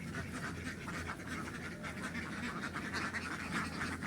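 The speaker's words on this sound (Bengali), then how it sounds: "আপনারা হাঁসগুলো দেখতে পাচ্ছেন খুব চঞ্চলভাবে আছে" Ducks by a village pond give off a continuous busy background of quacking and chatter, moderately faint and steady across the whole stretch, with no clear talk over it.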